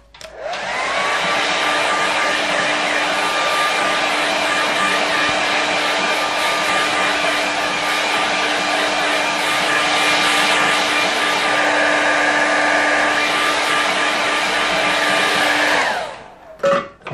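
Hair dryer running steadily at close range for about sixteen seconds while drying paint on a mountain painting, a constant whirring blow with a whine, then clicking off near the end.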